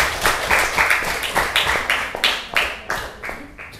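Brisk, fairly loud clapping from a small group, each clap sharp and distinct in an uneven, quick rhythm that carries on without a break.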